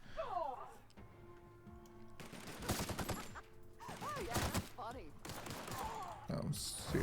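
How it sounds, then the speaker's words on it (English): Gunfire in the video game The Outer Worlds as a corpse is shot, with several bursts of rapid shots amid chirpy game effects, all under ongoing speech. "Oh, shooting the corpse."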